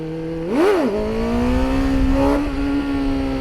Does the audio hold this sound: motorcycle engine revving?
yes